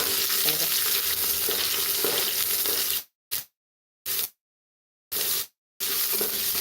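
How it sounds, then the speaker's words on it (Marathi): Onion and green chili fry in a hot tempering for khichdi, producing a loud, steady sizzle that is repeatedly cut into short bursts separated by silent gaps. "आता आपण याच्यामध्ये घालणार आहेत कांदा आणि मिरची मस्त आणि ते छान फ्राय करून घेऊ"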